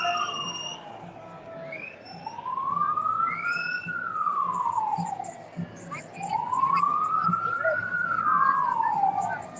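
An ambulance siren wails at a protest march, rising and falling in two long slow sweeps, loud and close amid crowd noise and traffic.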